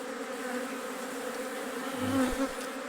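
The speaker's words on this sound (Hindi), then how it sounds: "फिर मधुमक्खियों को यहाँ से उठाएंगे हाथ में" A steady, dense buzzing of a large honey bee swarm being moved by hand into a large hive box, constant and fairly close, with no other sounds.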